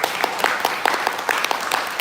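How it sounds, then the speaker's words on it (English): Audience applause at a poetry event, a close, lively clapping with a fairly regular beat of prominent individual claps standing out over the crowd's steady patter. "Round of applause for all of you who are coming."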